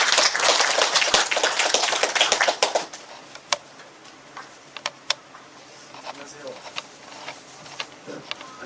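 An audience at a Korean community lecture event claps loudly for the incoming speaker, a dense burst of applause that thins after a few seconds into a few scattered claps.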